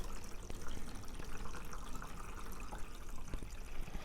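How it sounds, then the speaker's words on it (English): Water poured from a watering can into a seed flat for starting cabbage seeds, a soft continuous trickle and splash that stays fairly quiet and steady, with no speech. "Let's put our water in."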